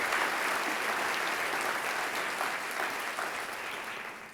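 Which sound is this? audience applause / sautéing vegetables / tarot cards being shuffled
audience applause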